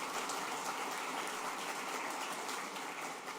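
Audience applause at a Carnegie Mellon University robotics facility opening, honoring the county executive and mayor, a steady dense patter of many hands clapping with no voices over it.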